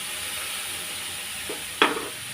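Preserved radish and egg stir-fry in a pan with a faint, steady sizzle, then a short scrape of the spatula and a louder crackle near the end, no one speaking.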